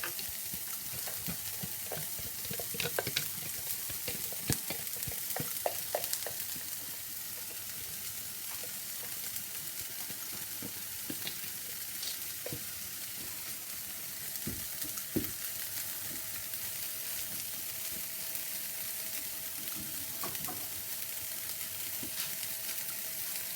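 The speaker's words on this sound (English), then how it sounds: "So I'm just frying off the shallots." Shallots sizzling steadily in a hot pan for vegetable samosas, with occasional stirring scrapes and clicks, no voices.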